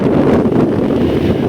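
Strong wind over the open Pacific Ocean at sea aboard a boat, a loud continuous roar buffeting the microphone with low rumbling gusts and no voices.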